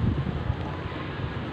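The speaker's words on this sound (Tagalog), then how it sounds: "Mahangin ngayon." Strong monsoon wind buffets the microphone on an outdoor terrace, a steady low rumbling roar with gusty fluctuations throughout, no other sounds standing out.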